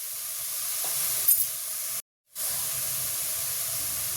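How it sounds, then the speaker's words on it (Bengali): Green chillies fry in hot oil in a pan alongside fish, onion and garlic, giving a steady hissing sizzle that briefly cuts out before resuming at the same level. "কাঁচা লঙ্কা, সেগুলো এবার এর সাথে ভালোভাবে ভেজে নেব"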